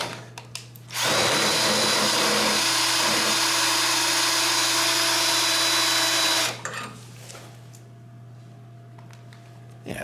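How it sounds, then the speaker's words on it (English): Cordless drill boring through a steel riding mower hitch while fitting a Craftsman sleeve hitch, a loud steady whine running about five and a half seconds, then stopping abruptly with quieter rattling afterward. "So I'll go ahead and drill those out now."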